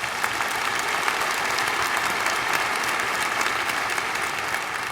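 Dense, steady applause from a large audience at a university freshman convocation, a continuous wash of many hands clapping at even loudness for the full five seconds, with no pauses.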